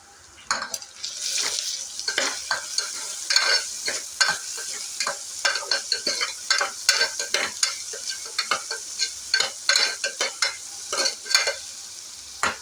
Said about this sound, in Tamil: இப்போது இடித்து வச்சுருக்க இஞ்சி பூண்டு பேஸ்ட் வந்து ஆட் பண்ணிக்கலாம். மிக்ஸ் பண்ணிக்கலாம்.